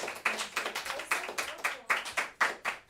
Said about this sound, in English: powerful snaps, claps, all of it